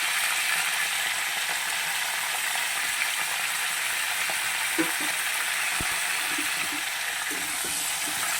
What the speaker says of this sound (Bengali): কপিটাকে মিডিয়াম আছে আমি ভালো করে ভেজে নেব